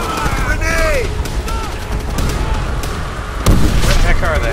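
Grenade blasts and rattling gunfire in Call of Duty World at War, a dense loud battle bed with a sharp explosion near the end, under constant shouted voices and game dialogue.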